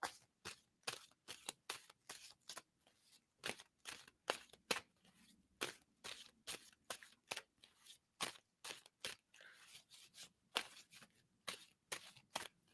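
A deck of cards is shuffled repeatedly, quiet crisp riffling bursts and taps in an irregular rhythm, close but faint, with no voices.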